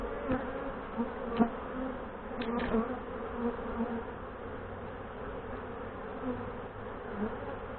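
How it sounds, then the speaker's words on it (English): Honey bees from a queenless hive buzz steadily in a continuous close drone, with a few brief sharper knocks and rustles breaking through early on. "They have no queen, and there's more on this side."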